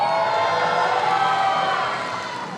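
An arena crowd at a Major League Table Tennis match, Princeton versus Florida, cheering and shouting in a sustained loud roar that eases slightly toward the end.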